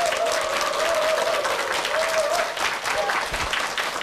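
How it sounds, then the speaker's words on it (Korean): Studio audience applauding to welcome a lecturer onto a TV lecture stage, a steady full clapping crowd sustained throughout, with a faint voice briefly audible over it. "큰 박수로 맞이해 주십시오"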